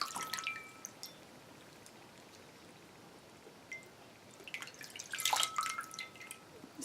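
Water dripping and splashing from a bowl of water during a nighttime skincare routine, a handful of faint, scattered drips and small splashes in quiet surroundings, with a busier cluster of trickling near the end.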